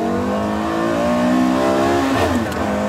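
V10 5.7-litre 612 hp race car engine, originally built for the 24 Hours of Le Mans, revs hard in second gear: a loud, close, continuous rising howl with no talk over it.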